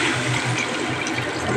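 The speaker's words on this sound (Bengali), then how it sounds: "জল দিয়ে দিলাম।" Water pouring into fish curry of fasha fish with ghatakchu simmering in a pan, a steady close splashing rush that continues evenly throughout.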